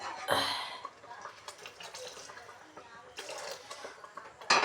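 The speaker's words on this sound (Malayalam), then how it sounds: "ആവശ്യത്തിനുള്ള വെള്ളം ഒഴിച്ചു കൊടുക്കുക" Water poured into a pot of Malabar mackerel (ayala) fish curry with kudampuli, a splashing burst near the start followed by quieter trickling and light clinks, with another splash at the end.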